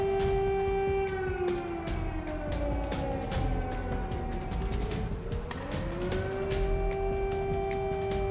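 Emergency sirens wail through a Russian city after a drone attack, a steady loud tone bending down and back up over traffic rumble, with repeated sharp clicks cutting through.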